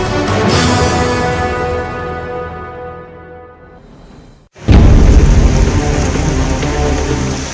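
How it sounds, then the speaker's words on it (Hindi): Heavy rain pours down steadily in Jagdalpur, a loud dense hiss that briefly drops away before returning even stronger and closer, with no voices. "आज सुबह से ही तेज बारिश हो रही है।"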